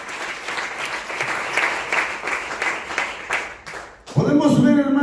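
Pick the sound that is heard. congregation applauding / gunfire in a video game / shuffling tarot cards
congregation applauding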